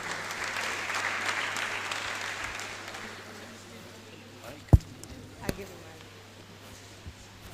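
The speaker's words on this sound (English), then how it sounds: "A round of applause for him." Audience clapping that swells early then thins out and fades, with a few sharp knocks and handling thumps toward the end.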